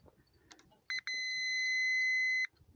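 A multimeter on a continuity test of a Massey Ferguson 231 tractor's gauge cable gives two short chirps, then a steady high electronic beep held for about a second and a half, clear against a quiet room.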